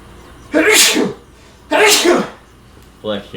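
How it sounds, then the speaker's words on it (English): Two loud, close sneezes in quick succession, followed by the start of a third, each a sharp breathy burst, with a person's voice briefly at the end. "Bless you."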